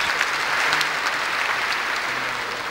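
Dense, steady applause from a large television gala audience, many hands clapping at an even level throughout without a break.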